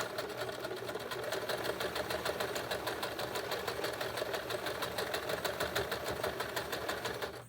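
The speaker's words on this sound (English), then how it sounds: "I'm going to go forward and I'm going to keep sewing around." Sewing machine stitching steadily around a fabric mason jar cover, a fast even needle chatter running close and loud throughout with no talk.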